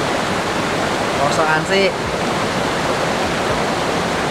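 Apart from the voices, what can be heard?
Klewer waterfall in Kediri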